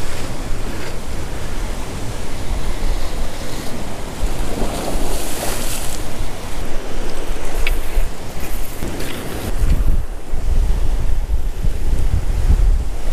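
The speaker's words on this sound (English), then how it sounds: "It's actually a lot windier than I thought it would be, which is definitely not a good sign. The waves are chaotic" Strong wind buffets the microphone while chaotic surf crashes against a rocky shore, a loud, continuous roar with heavier wave surges rising throughout.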